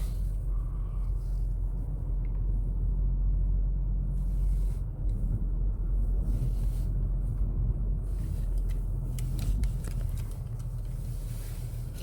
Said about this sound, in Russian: Все, поехала тачка.